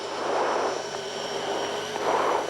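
A Fouga CM.170 Magister jet of a 1975 aerobatic display team runs at full power, a steady loud turbine roar with a thin whine, swelling twice as if heard from the cockpit.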